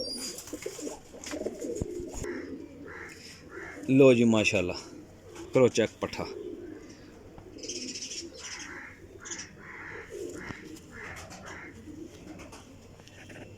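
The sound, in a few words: pigeons cooing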